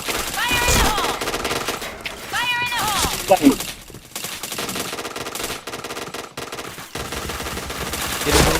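Rapid automatic gunfire rattles in repeated bursts during a PointBlank online shooter match, loud and close, with a player talking excitedly over the shots.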